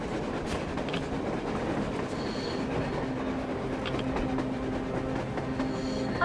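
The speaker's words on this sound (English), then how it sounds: "A train! A damn train on the surface!" A train running on the surface in the video game Metro Exodus, a steady rumbling roll with faint rhythmic clicking of wheels and a thin squeal, heard at moderate distance and continuous throughout.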